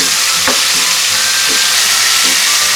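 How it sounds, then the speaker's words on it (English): Fish fillets frying in a pan, a loud continuous sizzle and hiss with a few soft scraping stirs or taps, no voices. "So you allow the other side to also fry to golden brown."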